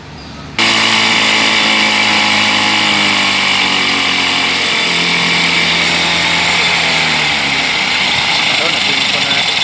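A 125 motorcycle engine idles loudly and steadily close by after a carburetor adjustment, a continuous mechanical drone with a slight rise in pitch, starting abruptly after a brief quiet moment.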